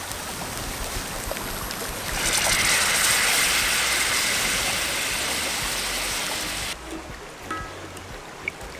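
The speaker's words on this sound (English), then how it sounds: "I'm gonna let this boil down a little bit more." Cream sauce with chicken pasta simmering and boiling down over an outdoor cooking fire, a steady broadband bubbling hiss that swells louder midway and then drops back to a softer simmer.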